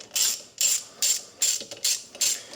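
A hand ratchet fitted with a 1/4 inch socket clicks through six quick, evenly spaced bursts of strokes while a capacitor is taken off a seized Century UST1102 pool pump motor. No one talks.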